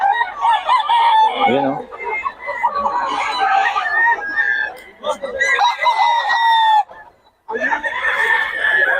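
Chickens and roosters at a poultry spot in Bocaue, with repeated loud crowing and clucking close by, overlapping with someone talking throughout.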